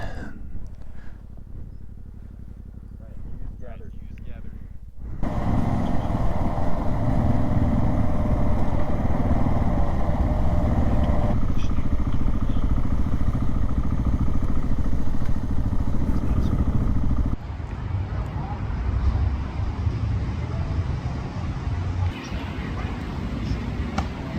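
An adventure motorcycle cruises along a Colorado road, its engine droning loud and steady with wind rush, and the pitch shifts as the rider changes speed.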